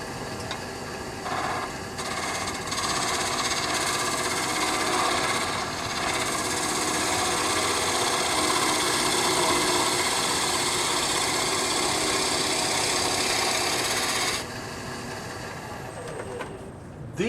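Skew chisel taking planing cuts on a spinning wood lathe workpiece, a steady, fairly loud hissing whir that holds continuously for about fourteen seconds before dropping to a quieter motor hum.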